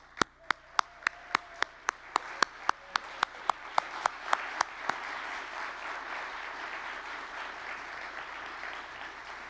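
At an awards ceremony, one close, loud pair of hands claps in a steady, evenly spaced rhythm over softer, diffuse audience applause. The crowd clapping continues on its own after the near claps stop.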